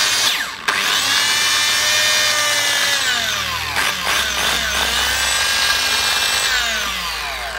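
A Japanese domestic 100V multi-purpose saw cutting through wood, a loud, sustained motor whine with strained pitch dips as the blade bites, continuous and close, tapering slightly at the end.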